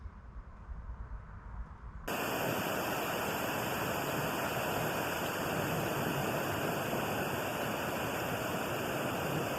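A Jetboil camping stove lights and runs, a steady, loud roaring hiss of the gas burner heating water, starting abruptly after a quieter lead-in and holding constant.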